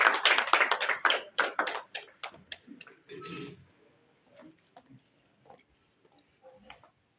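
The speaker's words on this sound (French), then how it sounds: "Sous vos acclamations, s'il vous plaît." Audience applause at a naming ceremony in Goma, DRC: a burst of loud, close clapping that thins out after a few seconds into scattered claps and faint trailing sounds.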